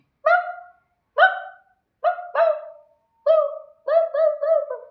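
A human voice imitates a dog barking, giving about eight short, clipped woofs in uneven bursts, some paired or in quick runs, close and clear against silence.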